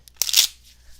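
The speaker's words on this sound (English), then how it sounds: "So this is actually the first legitimate shuffle of" Brand-new Steampunk Tarot deck of oversized cards being shuffled for the first time: a quick, crisp riffle of flapping card edges lasting a fraction of a second, close and fairly loud, with no talking.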